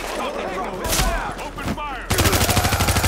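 Gunfire in the video game Tom Clancy's The Division, during a Midtown Manhattan east side mission: loud, close shots with a hectic battle mix, then a fast automatic burst of rapid, evenly spaced rounds at the end.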